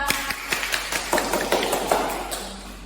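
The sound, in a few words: class clapping hands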